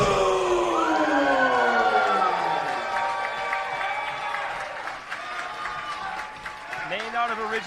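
A wrestling crowd cheers and applauds for a women's wrestling entrance, loud and sustained with whoops and rising voices, as a ring announcer talks over the roar throughout.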